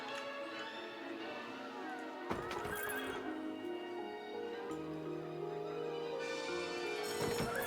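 Horse neighing and whinnying with clip-clop hoofbeats in the video game Planet Coaster, heard over steady game ambience and music, with the whinny standing out clearly and the hooves following in a rhythmic patter.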